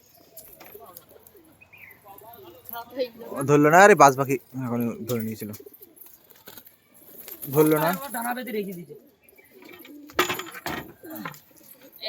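Pigeons in a village pigeon keeper's flock coo softly and intermittently beneath someone speaking in bursts, with quiet gaps and a few sharp handling knocks near the end.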